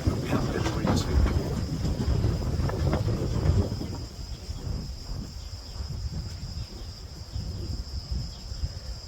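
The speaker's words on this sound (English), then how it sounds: "Sorry about the wind, it's a little bit windy here today" Gusty outdoor wind buffets the microphone on a hot, breezy day, a steady low rumble that is strongest early and eases slightly later, with faint insect chirps in the background.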